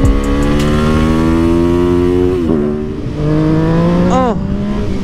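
Yamaha MT-09 motorcycle with a full aftermarket exhaust, throttle blipped and revved hard, engine pitch climbing and dropping in loud close bursts with a brief dip between revs.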